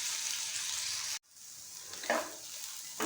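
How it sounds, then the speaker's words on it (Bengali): Potatoes fry in oil with salt, giving a steady close sizzle that cuts out for a moment and then resumes, with a brief swell of stirring or scraping partway through. "আলুটাকে একটু লালচে করে ভেজে নিতে হবে।"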